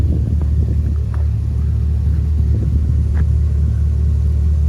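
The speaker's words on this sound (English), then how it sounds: "I'm gonna delete the cats to make it louder and gain a little bit of more horsepower. And also I got a Flowmaster Super 10" Chevrolet Silverado pickup with a Flowmaster Super 10 muffler and deleted catalytic converters idles nearby, a steady deep exhaust rumble that stays even and uninterrupted.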